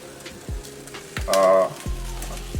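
Sliced garlic sizzles in a cooking pot for Jamaican stew peas. It gives a short, loud burst of frying hiss midway, with a few soft knocks and clicks before and after and no voices.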